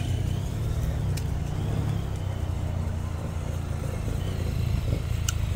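A BMW R 1300 GS Adventure motorcycle fitted with knobby Dunlop Trimax Red mud tyres rides off-road, its engine a steady low drone with faint clatter throughout, moderately loud and without voices.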